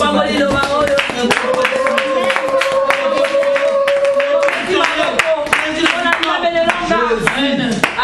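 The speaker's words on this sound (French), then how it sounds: "On va acclamer pour la parole de Dieu" A church congregation claps rhythmically and cheers, loud and close, with music or voices sustained underneath throughout.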